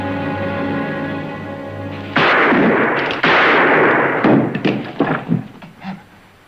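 A gunshot rings out as a sudden loud blast that cuts off a steady hum and then rumbles and rattles away in decaying echoes.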